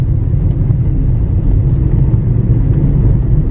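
Road traffic on Dhar Road in Indore, heard from inside a moving car in late afternoon: a steady, loud low rumble of engines and tyres with a continuous whir and no break.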